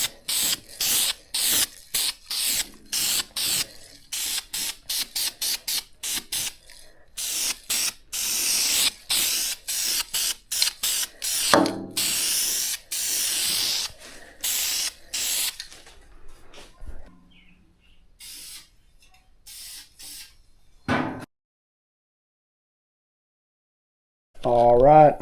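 Spray gun laying primer onto automotive parts in bursts of hissing spray, with brief pauses between passes, then a lull and one last short burst near the end.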